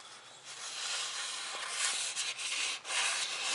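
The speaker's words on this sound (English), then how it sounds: "do some sanding with a little bit of paste wax and mineral oil" Hand sandpaper with paste wax and mineral oil rubs against a wooden mallet being woodturned in a soft, hissing scrape, steady strokes with a couple of brief pauses, close by.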